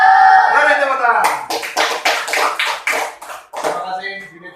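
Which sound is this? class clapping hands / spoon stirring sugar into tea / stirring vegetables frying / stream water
class clapping hands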